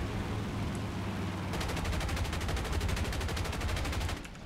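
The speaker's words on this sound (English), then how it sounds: "Alright, fine, we'll use the rear guns." Rear defensive machine guns on a PB4Y-2 Privateer bomber firing in War Thunder, a rapid sustained burst of evenly spaced shots lasting several seconds over a constant engine drone, fairly quiet overall.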